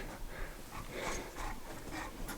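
A dog pants softly and rhythmically close by, a quiet breathy sound with no talk over it.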